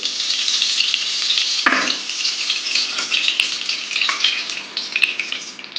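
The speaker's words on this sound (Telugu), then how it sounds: "ఆయిల్ వేసుకున్న తర్వాత ఇందులోకి 2 టేబుల్ స్పూన్ల నెయ్యి వేసుకుంటున్నానండి." Ghee spoons into hot oil in a wide pan for a Telugu coconut rice offering, giving a steady, fairly loud sizzle with a brief burst as it lands and light crackles running on, no voices.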